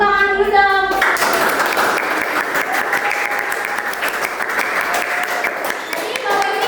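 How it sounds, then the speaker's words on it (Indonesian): A classroom group applauds after a microteaching presentation, with many hands clapping in a dense, steady burst that lasts several seconds; a voice is heard briefly just before the clapping starts and again as it ends. "Tepuk tangan dulu dong"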